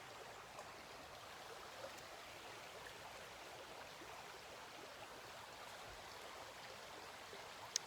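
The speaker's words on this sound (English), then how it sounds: "I'm next to the stream" A stream flows outdoors in a natural setting, a steady soft rushing and trickling wash with no talk, faint and continuous throughout.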